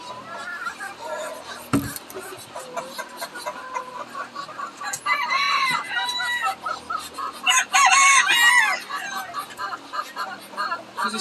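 A backyard flock of chickens clucking and squawking close by, with a rooster crowing loudly twice in the middle, over a busy outdoor background with an occasional thump.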